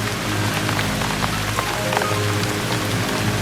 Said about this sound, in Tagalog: Umuulan noon